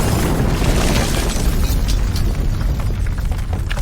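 A dense, sustained explosion from an action film rumbles loud and continuous, with debris-like crackle and roar filling the whole stretch without letup.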